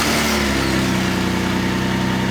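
A Toyota Land Cruiser with a grinding transfer case runs while put in gear, a loud, close, steady engine drone with a continuous rough mechanical whir throughout.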